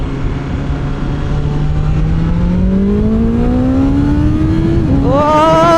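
A 165 bhp car accelerating hard in first gear on a morning ride in Bangalore, its engine note climbing steadily in a loud, close drone before a sharp jump in pitch near the end.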